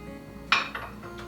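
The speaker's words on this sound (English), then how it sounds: "we're just gonna stir and mix all that up really good" A utensil stirs and mixes food with chopped fresh parsley in a pot inside an RV kitchen, producing a few sharp metallic clinks and scrapes at close range, with no voices.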